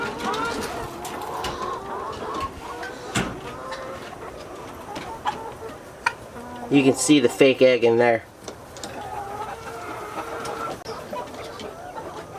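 Chickens cluck in a farm coop, with soft scattered clucks and one louder burst of rapid clucking partway through, while a person talks over them.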